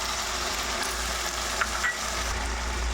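Onion, tomato and ground spice paste frying in oil in a pan for hotel-style tarka, a steady close sizzle that runs throughout with a couple of brief stirring scrapes and no voices.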